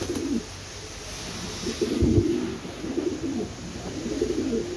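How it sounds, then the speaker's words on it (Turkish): A young black keşmer pigeon with one white tail feather coos nearby in a series of low, soft, throaty notes, alone against faint background noise. "Gördüğünüz gibi kara keşmerimiz de ona ötüyor"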